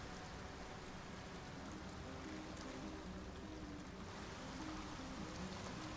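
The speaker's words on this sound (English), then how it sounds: "Beautiful waterfall." Steady broadband rush of a waterfall in Baldur's Gate, a continuous even roar of falling water heard alone without talk.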